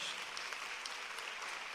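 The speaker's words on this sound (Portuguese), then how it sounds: "Vamos aplaudir o Senhor Jesus bem forte." A church congregation claps for Jesus at an evangelical talk, a dense, steady wash of applause held at an even level throughout, fairly quiet and with no voices over it.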